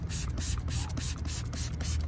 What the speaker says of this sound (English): So I'm literally just gonna spray all this down